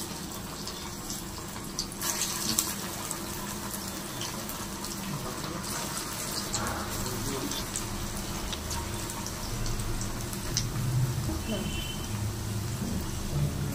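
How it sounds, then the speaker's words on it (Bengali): Fish pakoras deep-frying in hot oil give a steady, dense sizzling hiss that runs unbroken throughout, with a faint voice in the background. "এইভাবেই সবগুলি বড়া ভেজে নেব।"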